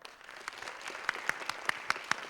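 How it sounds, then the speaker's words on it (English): A live audience applauds an architecture panel, a dense wash of clapping with a few sharp, louder claps standing out in a loose rhythm toward the end. "a big round of applause for our panel"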